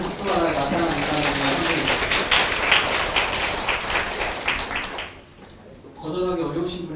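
An audience claps at a university lecture by a party leader: dense, steady applause for about five seconds, then a brief pause before voices speak.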